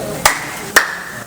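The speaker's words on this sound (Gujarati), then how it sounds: "હાથમાં તાળી પડે ભટુરે બનાવતા બનાવતા છે ને એક એવી આદત પડી જાય આવી રીતે તાળી પડે જ." Two sharp hand claps about half a second apart, made by a cook at a roadside dhaba in Vadodara while shaping desi ghee bhature dough, each clap crisp and close with quiet background in between.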